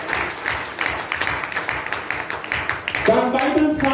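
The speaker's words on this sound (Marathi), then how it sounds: "जरा टाळ्या वाजवून" A church congregation claps steadily during a Sunday sermon, a dense wash of applause that carries on as a voice begins speaking over it near the end.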